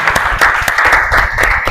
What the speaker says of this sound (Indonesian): Boleh tepuk tangan dulu untuk mereka semua.